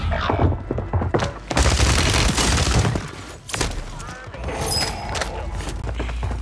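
Bursts of video-game gunfire crack and boom in rapid volleys, dense and loud, with a player talking over the shooting throughout.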